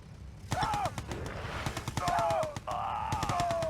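Gatling tank firing in the Yuri's Revenge strategy game, a fast rattling stream of shots with whining tones rising and falling over it, while a commentator talks throughout.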